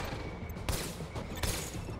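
Gunfire crackles in The Division video game, with a few sharp bursts of shots over a dense, noisy background of battle.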